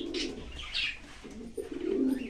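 Pigeons coo in a loft where a well-standing female pigeon is kept, with several low throaty coos in uneven bursts alongside brief higher chirps and a soft flutter, fairly close and with no talking.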